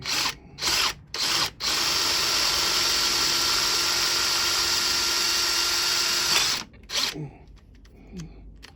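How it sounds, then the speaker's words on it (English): A power drill bores into a brick hammer, grinding metal in one long, loud, steady run after a few short starting bursts, then stops into quieter clatter. "I'm going to drill it out anyway"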